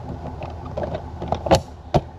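A jet ski seat being put back on: faint rustling and shuffling, then two sharp, close clunks as the seat seats and latches.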